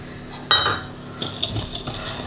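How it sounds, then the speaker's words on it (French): Egg yolks and sugar mixed in a bowl for a coconut cake, opening with a sharp clink of a utensil against the bowl followed by lighter scraping and tapping strokes. "On mélange les jaunes et le sucre pour éviter qu'ils ne brûlent."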